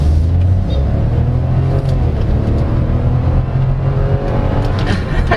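Engine of a 2022 Chevrolet Tracker LT Redline rumbling and revving steadily throughout, heard loud and close from inside the cabin with a continuous low drone and no talking.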